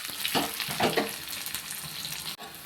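Onion and curry leaves frying in hot oil with mustard seeds and dried chilies for a sambar tempering make a close, crackling sizzle with a few louder stirring bursts early on.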